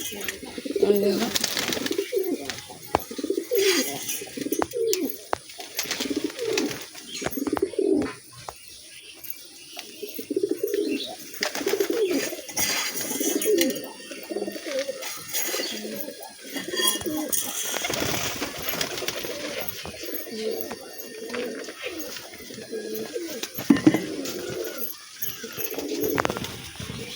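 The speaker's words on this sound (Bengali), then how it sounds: "পায়রা।" Pigeons coo in a repeated rhythmic series of soft, throaty calls, fairly close, with some rustling and background noise, then the cooing resumes after a pause.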